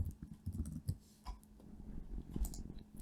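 Soft, irregular clicks of fingers typing a short word on a computer keyboard during a DaVinci Resolve 16 title-animation session, faint and close with no talking over them.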